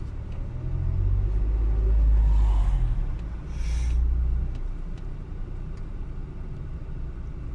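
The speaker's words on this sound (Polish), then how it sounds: "My cały czas jedziemy sobie w kierunku centrum." A car drives through the seaside town of Ustka towards the centre, a steady low engine and road rumble heard from inside, swelling briefly as another vehicle passes nearby, with no talk.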